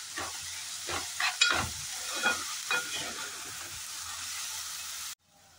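Onion and tomato, salted, fry in a pan with a bright steady sizzle and several bursts of stirring scrapes early on, close and moderately loud, then cut off abruptly near the end.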